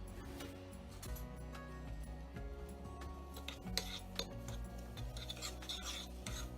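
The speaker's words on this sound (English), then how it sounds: "I'm gonna give this a little bit of a stir." Utensil stirring melted shortening and butter in a pot, a soft continuous scraping and light clinking under steady kitchen background noise, close and moderately quiet.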